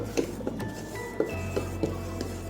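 Bread dough being mixed with sugar and yeast in a bowl: a spoon clinks and scrapes against the sides in a few light, irregular taps over a low steady background hum.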